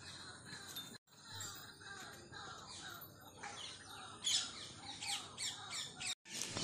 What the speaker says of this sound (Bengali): ময়ূর ডাকছে এইসব